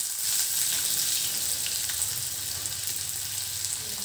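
Onion going into hot oil with garlic, a loud, continuous bright sizzle and hiss that stays dense and even throughout, close up, with no voices.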